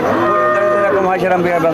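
A dairy cow with a calf moos loudly and continuously at a cattle market selling Sahiwal, Friesian and local breeds, one long sustained bellow filling the moment with no talk over it.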